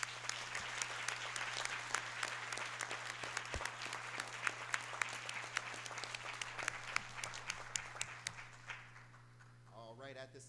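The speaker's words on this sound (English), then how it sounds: "please give our Raiderbots a round of applause." Audience giving a round of applause at a school board meeting in a large room, steady dense clapping that lasts several seconds and thins out at the end as a voice begins speaking.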